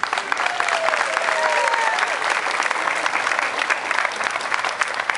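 A crowd applauds the mayor at an outdoor Schützenfest, a continuous even roar of many clapping hands at moderate level, with a brief voice briefly audible early on.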